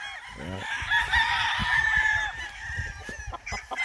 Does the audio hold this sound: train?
no